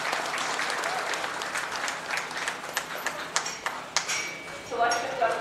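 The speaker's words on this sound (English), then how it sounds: "Let's give him a nice round of applause." Audience applause ringing out in an indoor arena at a 4-H beef show during the Clay County Fair, a steady wash of clapping with a few sharper claps and an announcer's voice over it.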